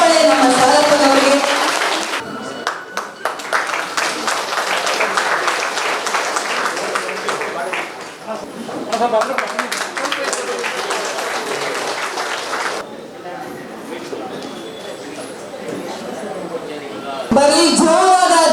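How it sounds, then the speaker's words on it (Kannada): Loud applause from an audience at a 2024 BBMP seminar on the IPD Salappa report for municipal sanitation workers, bursting at the start and again near the end, with a crowd and talk in between. "ಬರೀ ಜೋರಾದ ಚಪ್ಪಾಳೆ ನಮ್ಮ ಸಾಲಪ್ಪನವರಿಗೆ."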